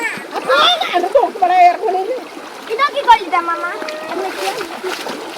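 Children shouting and playing while water splashes around them at an old bathing spot, with lively kid voices over steady splashing throughout.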